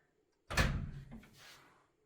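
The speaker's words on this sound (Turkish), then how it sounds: "Hayır dur kapıyı örteceğim sadece." Door being shut indoors: one sharp loud thud after a short silence, followed by a fading rattle and rumble as it settles, with no talking.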